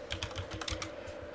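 Quick, steady keystrokes clatter on a computer keyboard, close and fairly quiet over a faint constant hum, with no pauses across the short stretch.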